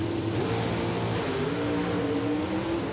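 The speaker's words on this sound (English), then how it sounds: "These are wedge motors, 500 cubic inch wedge engines under the Avenger hood." Pro stock drag race cars, Dodge Avengers with 500 cubic inch wedge engines, roar down the strip in a loud, steady engine drone with rising revs throughout, no talk over it.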